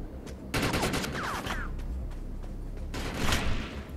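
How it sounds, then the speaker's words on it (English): Rapid automatic gunfire in the third-person shooter MMO Defiance comes in dense bursts, one long volley early on and another near the end, with quieter game noise in between. "Oh, they're shooting at me."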